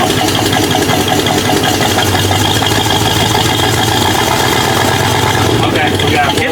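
Engine of a Jeep left sitting for 25 years, running steadily and given a little throttle, a continuous rough mid-pitched drone with people talking over it throughout.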